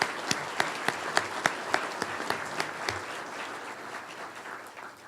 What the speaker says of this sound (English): Please join me in a round of applause for Keith,